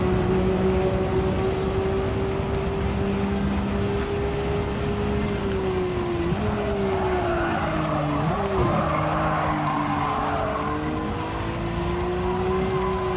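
Race car in Gran Turismo 7 braking late into a corner, a loud continuous engine drone dipping in pitch as the tires squeal and skid, with no talk over it.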